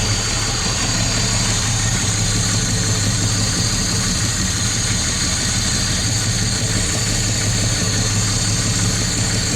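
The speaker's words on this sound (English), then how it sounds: "I'm afraid it really does sound a bit like a tractor engine." A Jaguar S-Type engine idles unevenly up close, a constant low chugging rumble with a slightly lumpy, vibrating, tractor-like rhythm and no voices.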